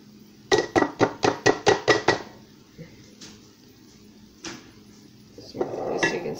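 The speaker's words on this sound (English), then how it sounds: "I'm going to use this ladle and just take my spoon and gently skim off the top here" A ladle and spoon work in a pot of rendered fat, giving a quick run of about seven sharp metallic taps followed by sparse clinks and a brief scraping rustle near the end.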